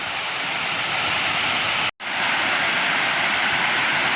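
A waterfall pours into a pool where the water churns into foam, a loud, dense, continuous roar that fills the scene, broken only by a brief cut near the middle.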